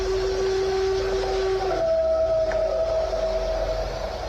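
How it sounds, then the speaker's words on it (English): A long, eerie tonal howl holds one pitch, then slides up to a higher pitch and sustains over a low, steady rumble; no voices. "An ominous howl echoes through the trees."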